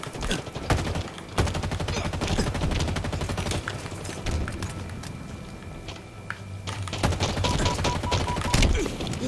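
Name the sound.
gunfire in Halo Infinite video game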